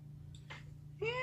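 A house cat gives a single short, faint meow after a couple of soft clicks, over a low steady indoor hum.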